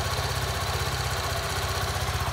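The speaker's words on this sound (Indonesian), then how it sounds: "Ini untuk suara mesinnya ya." Close up, the single-cylinder rhythm of a 2023 Suzuki V-Strom SX 250 adventure bike idles in a fast, regular low chugging pulse, steady and unbroken throughout, with nobody speaking.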